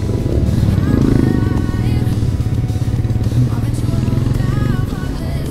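A motorcycle rumbles along a city street in Makati with a steady, loud engine drone, mixed with traffic clatter and nearby voices.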